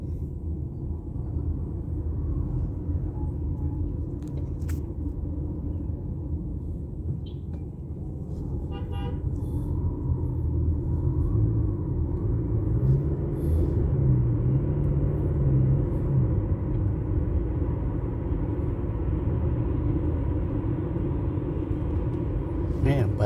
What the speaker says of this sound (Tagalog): Too much traffic.